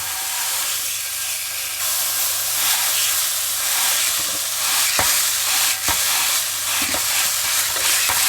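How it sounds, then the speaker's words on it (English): Beef burger patties for a copycat Chili's nacho burger sizzle steadily and loudly in a hot pan, a continuous frying hiss with occasional sharper crackles and pops as they are pressed down. "I'm going to take those patties of meat, place them in the pan, and we're going to press them down"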